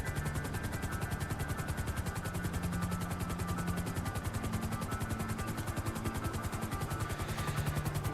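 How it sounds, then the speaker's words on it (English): Helicopter in Grand Theft Auto, a steady rapid rotor chop with a constant engine drone, loud and continuous throughout. "whilst I've got this helicopter for however long this is going to last, I'm going to do some flying around"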